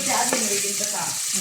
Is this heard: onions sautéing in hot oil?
yes